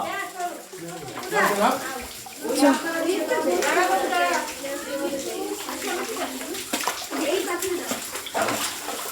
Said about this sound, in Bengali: এত জল ঢুকে যায় কেন রে ভাই? ঝর্ণার জল।